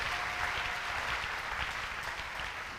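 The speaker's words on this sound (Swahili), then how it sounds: "Amina, tumpikie Yesu makofi" A church congregation applauds for Jesus during a sermon, a dense, steady patter of many hands clapping together that stays even and continuous without voices.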